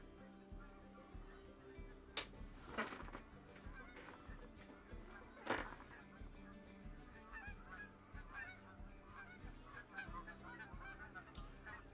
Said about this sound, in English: And we have geese coming, sounds like.